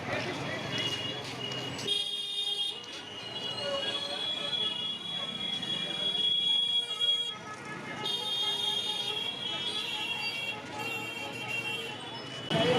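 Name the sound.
railway station forecourt with trains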